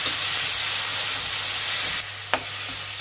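Three chopped medium-sized native tomatoes fry in a pan for Andhra-style tomato pappu, a steady soft hiss and sizzle that drops slightly partway through, with a brief sharp knock near the end.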